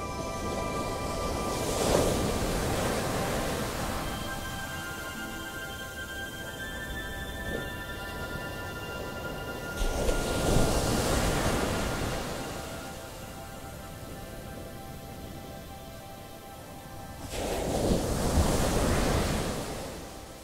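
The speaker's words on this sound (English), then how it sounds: "listen to the calming, natural sounds of the waves" Ocean waves washing onto a shore, three slow swells that rise, break into broad hissing surf and recede, spaced several seconds apart, with a steady wind-like rush between them and no voices.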